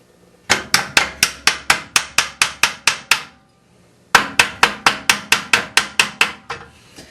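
A hammer taps the bolts out of a Fiero headlight assembly. There are two even runs of about a dozen sharp, close metallic strikes each, separated by a short pause.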